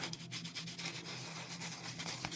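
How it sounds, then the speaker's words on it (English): Hands rubbing loose bits off a paper art journal page decorated with real leaves make a steady, close, dry scratching and brushing sound, repeated strokes with no talk. "I just rub that off"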